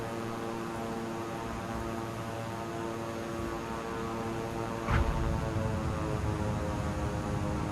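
Propeller airplane engine drones steadily in a flight video game, a continuous tonal hum that swells slightly louder and rougher about midway through, with no talking.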